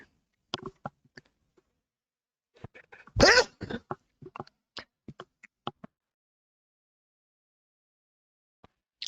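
A single sharp sneeze bursts out amid quiet clicks and small taps in an otherwise silent room.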